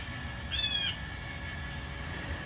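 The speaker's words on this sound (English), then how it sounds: "It's a blue jay who tries to run everybody else off." A blue jay squawks once at a backyard bird feeder, a short harsh call of under half a second, fairly close, with quiet outdoor background before and after.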